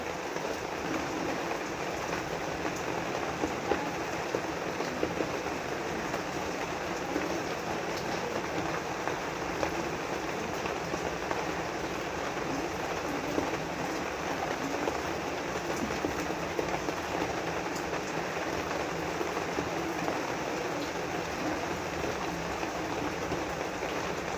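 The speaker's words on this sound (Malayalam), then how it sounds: "നല്ല മഴയുണ്ട്" Heavy rain falling outside a home kitchen, a steady broadband hiss of downpour on surfaces, even and unbroken for the whole stretch, moderately loud with no voices.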